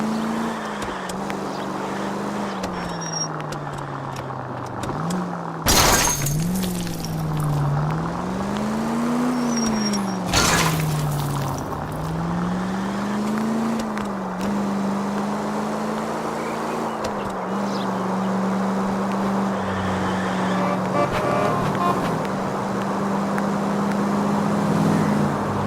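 Engine drone of a car driving in the video game L.A. Noire, with a steady hum that rises and falls as the driver shifts and accelerates, interrupted by a couple of sharp loud bumps.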